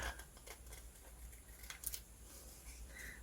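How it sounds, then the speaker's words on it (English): Scissors make quiet snips and faint paper rustles while cutting an angled bottom flap on a handmade craft card. "I want to cut this at an angle here because this is going to be the bottom flap"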